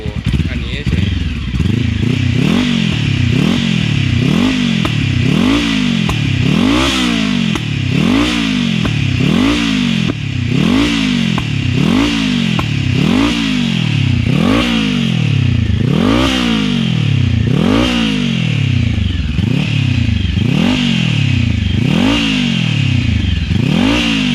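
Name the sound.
Honda CBR500 turbo motorcycle engine revving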